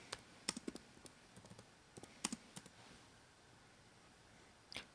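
Quiet, close clicks from typing on a laptop keyboard come in short uneven bursts with small pauses between them and no talking.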